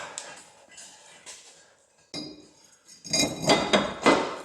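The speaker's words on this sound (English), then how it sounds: "Let's slide this rotor back on." Metal clinks and scrapes as a brake rotor slides onto a car's hub during a big brake kit install, a few light taps, then louder grinding rattles near the end, close by and without talk.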